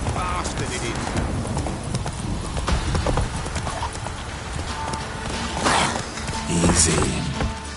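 A horse gallops in The Witcher 3, with rapid, loud clip-clop hoofbeats close up, a brief whinny-like accent near the end, and rain and ambient noise underneath.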